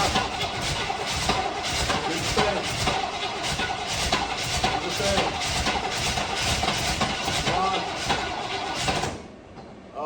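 A 1968 Chevy Caprice V8 cranking over and over in a steady rhythmic whirr, loud and close, with the starter stopping near the end.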